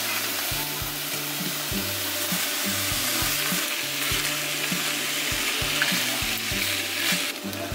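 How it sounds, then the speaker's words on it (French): Pasta frying in a pan, a steady loud sizzle running throughout with repeated low scraping knocks as it is stirred and tossed. "je vais prendre les pâtes et je les ajoute directement dans mon plat"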